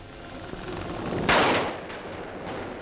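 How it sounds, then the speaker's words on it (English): Artillery guns fire on the German front in 1944 war footage: a single loud, booming blast rolls out midway and fades into a faint echo over a low background rumble. "But up forward on that same front, on German soil, the guns are busy."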